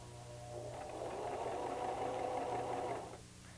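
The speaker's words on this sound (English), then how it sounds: "And now we'll have the larger zigzag stitch." A White 1735 sewing machine stitching a wide zigzag runs in a steady mechanical whir for about two and a half seconds, starting and stopping cleanly, close up with no talking.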